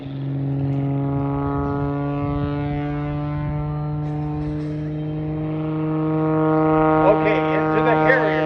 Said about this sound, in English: You hear the Hartzell propeller gaining RPM